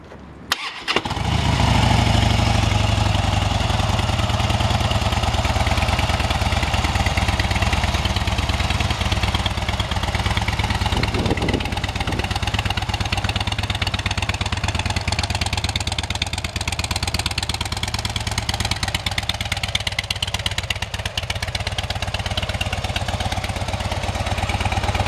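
A fuel-injected 2011 Harley-Davidson Street Bob FXDB with about 3,500 miles starts up and keeps running, a loud, steady, close engine rumble that holds for the whole stretch with no talk.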